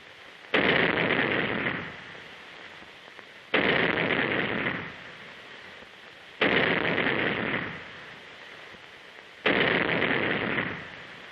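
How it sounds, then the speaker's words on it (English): A 3-inch naval gun on a Coast Guard cutter fires four rounds in rapid drill, each a loud booming blast about three seconds apart with a short ringing tail, and no voices. "The cadets demonstrate their proficiency by firing the 3-inch gun in record time."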